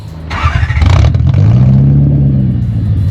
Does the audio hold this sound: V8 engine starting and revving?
yes